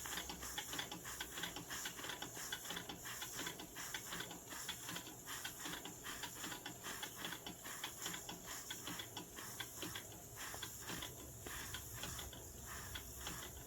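A Stirlingkit DIY model steam engine running on steam from its small boiler gives off a steady close hiss laced with quick rhythmic ticking puffs, continuous and without talk.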